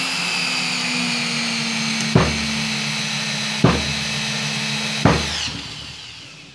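A Bosch GSR 7-14 E cordless drill driver runs with a steady whine while driving a screw into wood, with three sharp clicks or knocks of the clutch slipping spaced through the run before it winds down, close and loud, no talking.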